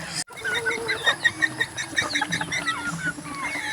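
Roosters and hens cluck and squawk in a busy flock at feeding time, with repeated short calls rising and overlapping, fairly close.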